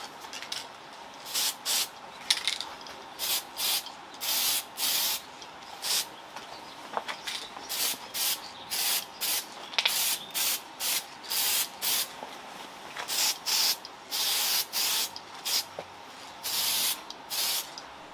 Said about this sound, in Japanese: 使うのはサッシュコート、ワイパー塗ったりする専用の缶スプレーです